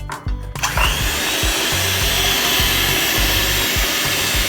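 An electric mixer beating six egg yolks with 100 grams of sugar, a loud, steady whirring drone with rhythmic knocking of beaters against the bowl, starting after a brief pause.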